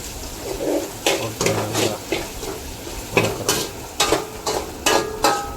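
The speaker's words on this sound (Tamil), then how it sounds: "அந்த எண்ணெயிலே கருவேப்பிலையும் போடுறோம்." Curry leaves dropped into hot oil for a village-style chicken curry, giving a close, continuous sizzle broken by repeated sharp clinks and scrapes of stirring against the pan.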